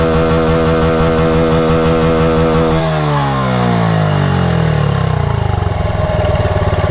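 Motorcycle engine in neutral, loud and close, holding a steady high rev before the throttle drops and the pitch sweeps down, then rising again into uneven revving.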